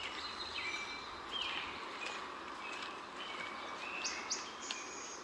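Small birds chirp and trill repeatedly in a quiet forest while people pick raspberries, light tweets and short descending whistles over a soft hushed background, with no talking.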